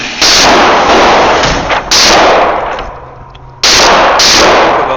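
A Glock 17 pistol fires in loud, sharp bursts at close range, three heavy reports spaced about two seconds apart, each ringing off before the next, with no voices present.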